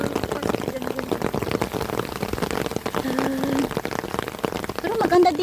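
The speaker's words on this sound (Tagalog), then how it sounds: "Nakapayong lang kayo lahat guys, kasi umuulan" Rain pours steadily on a street where people shelter under umbrellas, a dense, continuous patter with voices talking throughout.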